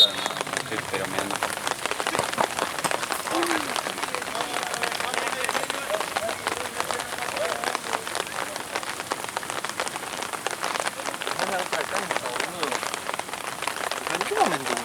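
Heavy rain pours onto an outdoor football pitch in a constant dense hiss of drops that holds steady throughout, with faint voices talking underneath.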